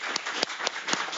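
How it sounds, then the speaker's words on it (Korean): Audience at a 2017 Jeju Forum session on restoring Hanon crater applauds the speakers, a brief burst of steady, rhythmic clapping heard moderately close. "오늘 세 분 연자님께서 좋은 발표해 주는데 한 박수 주시고요."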